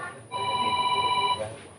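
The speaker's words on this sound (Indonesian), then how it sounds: "Telepon siapa tuh?" A telephone rings once with a steady electronic tone lasting about a second, fairly close and clear against a quiet room background.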